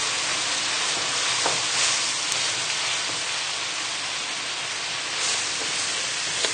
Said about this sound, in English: So we can add the wine in now. Now we just need to give this a stir. And we can let this bubble away.